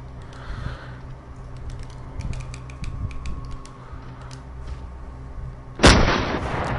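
Gunfire in the VR horror shooter SURV1V3 inside a sewer: soft clicking and mechanical handling noises, then one loud, close, sharp shot bursting out near the end and ringing briefly.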